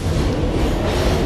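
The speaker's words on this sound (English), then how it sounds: "I guess here is an A train leaving." An NYC subway A train on the IND 8th Avenue Line pulls out of a Manhattan station, a loud, steady rumble of wheels and rail noise with no voices.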